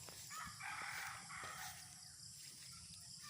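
Rooster crowing with chickens clucking on a farm, a loud crow standing out over a steady background of fowl calls.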